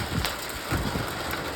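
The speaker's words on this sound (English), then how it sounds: "It's raining heavily." Heavy rain pours down steadily, a dense, even hiss of falling water with soft patters and no other sounds.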